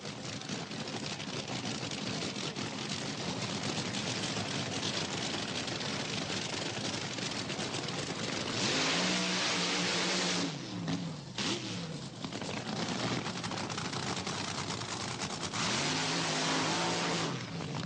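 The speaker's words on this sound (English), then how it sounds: "Both crews go through the familiar but necessary burnout routine." Roaring drag racing engines rev hard through long burnouts at Santa Pod Raceway, a constant loud blare with rising and falling revs and screeching tires, heard from nearby.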